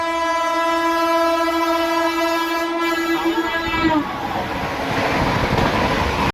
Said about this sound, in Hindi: देख सकते हैं सामने से आ रही है सियालदह राजधानी